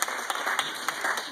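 Audience applause of scattered hand claps, moderately loud and steady for about a second and a half, with distinct individual claps standing out from the background clatter.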